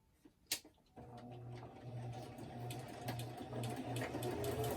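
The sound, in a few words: sewing machine stitching a handmade journal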